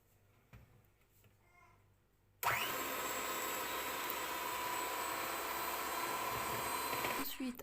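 An electric mixer beats pineapple cake batter, switching on abruptly after a quiet stretch and holding a loud, steady whirring drone for about five seconds before cutting off.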